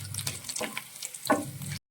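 Mustard seeds and dried red chillies fry in hot oil for a vendakka fish curry, a steady close crackle and sizzle with a few brighter pops, running evenly for under two seconds before cutting off.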